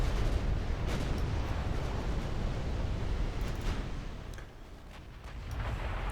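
Naval gunfire from warships in the game Ultimate Admiral Dreadnoughts, a continuous loud rumble of heavy gun blasts and booms blending into a dense roar, easing briefly before swelling again.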